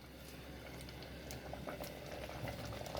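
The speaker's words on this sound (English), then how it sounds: "Just let it boil for some time." Dalma, an Odia lentil and vegetable stew, boiling in a pot, with a steady low bubbling and occasional soft pops and splutters, close and fairly quiet, and no voices.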